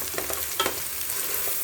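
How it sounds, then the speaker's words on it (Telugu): Butter sizzling as it goes into a hot pan for Hyderabadi bagara rice, a short close crackle with a few stirring clicks and a brief louder burst of spatter, no voices. "ఇప్పుడైతే నేను కొంచెము బటర్ వేస్తున్నానండి"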